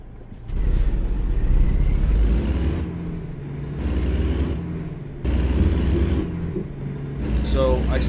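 An engine rumble of a semi-truck in a trucking video game, with a trailer air brake hissing in repeated bursts; low steady drone swelling and easing several times, with a sharp squeal near the end.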